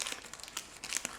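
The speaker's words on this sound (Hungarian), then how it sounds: "Egész jól jön a papír." Baking paper being peeled carefully off a freshly baked cake layer for a cream slice, giving soft close crinkling and crackling in irregular bursts with no talk.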